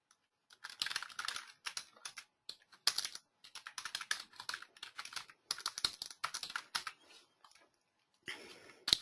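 Computer keyboard typing a name into a new access profile in a user-management interface: quick, irregular bursts of clicky keystrokes with brief pauses, close and clear, with no talking.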